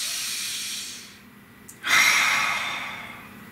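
Deep, slow breathing close by during a tarot reading: a long airy exhale, a brief pause, then a strong drawn breath that fades gradually, with no talk over it.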